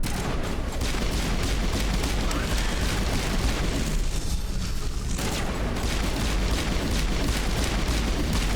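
A grenade blast in Mass Effect amid combat, a heavy, sustained rumbling roar layered with crackling gunfire that barely lets up, loud and close for the whole stretch.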